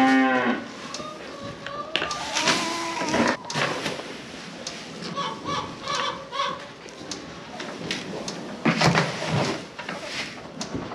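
Cattle moo on a farm, several loud, drawn-out calls from close by, with shuffling and light background noise between them.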